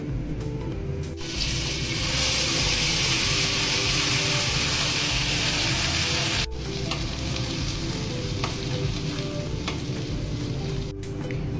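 Loud, steady sizzling of paste hitting hot oil, with a sharp burst of spattering, brief pauses, and stirring noise continuing throughout.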